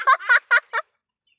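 Four quick honking, nasal duck calls in a short burst, close and fairly loud, then silence.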